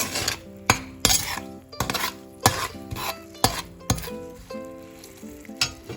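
Lemon pickle being stirred into warm oil in a pan, with repeated scraping, clinking strokes of a spoon against metal over a soft sizzle, close and fairly loud, no talk.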